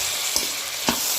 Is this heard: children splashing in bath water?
no